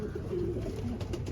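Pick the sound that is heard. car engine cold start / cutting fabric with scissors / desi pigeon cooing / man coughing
desi pigeon cooing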